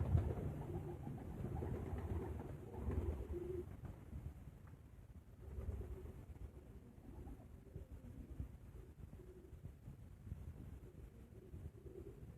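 Soft, low cooing of Dubai pigeons on a rooftop in Sialkot repeats in short phrases against faint wind noise, fairly quiet and close by.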